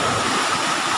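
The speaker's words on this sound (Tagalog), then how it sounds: "Grabe mga bro, lalaki ng alon no." Big ocean waves wash in a continuous, loud, close roar of broadband surf, mixed with some wind buffeting, with no voices over it.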